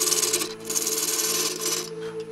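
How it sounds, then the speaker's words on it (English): Skew chisel cutting light scoring grooves into a spinning wood napkin ring blank on a lathe, a steady close scraping hiss over the lathe's constant motor hum, continuous for a couple of seconds. "Using the skew chisel, I make a small cut at each reference line."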